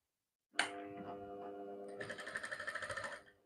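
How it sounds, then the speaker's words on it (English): A sewing machine stitches a blouse sleeve, opening with a sharp start-up clunk and ringing tone, then settling into a quick, even run of mechanical stitching clatter, close and alone. "I'm trying to stitch the sleeve round."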